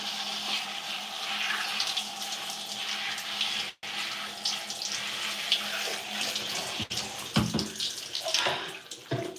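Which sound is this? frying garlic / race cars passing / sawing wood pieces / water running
water running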